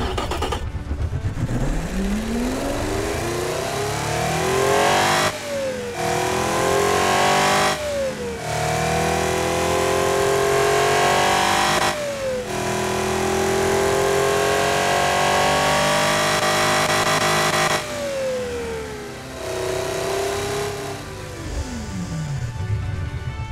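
An LS1-based V12 engine in the Automation car game revs through repeated rising and falling sweeps, loud and continuous, with short gear-change-like breaks before settling back toward idle.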